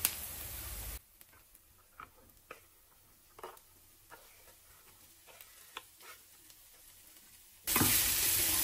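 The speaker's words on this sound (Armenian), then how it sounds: "Ավելացնելուց հետո եւս տապակում ենք այնքան մինչև պղպեղը մի փոքր փափկի" Onion and chopped peppers fry in a pan with a soft, steady sizzle, broken by a series of light clicks and taps of stirring. Louder noise bursts in briefly at the very start and again near the end.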